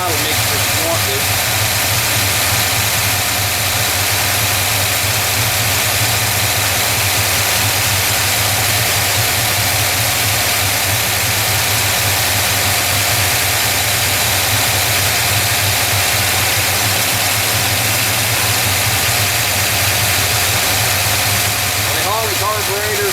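A car engine fitted with a Holley carburetor idles steadily and loudly throughout, a constant low rumble while the idle mixture is being adjusted, with no talk over it.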